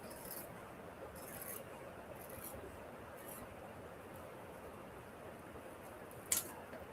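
Scissors cutting through a paper bookmark, quiet rasping snips repeating every second or so close by, ending in a brief sharper snap.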